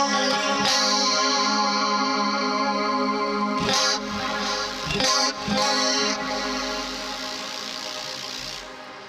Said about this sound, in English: That shimmer reverb is there as well